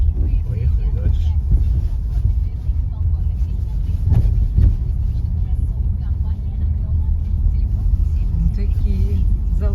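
Car driving on along roads near Ukhta in the Komi Republic, a steady loud engine and road rumble with tire noise, continuous throughout.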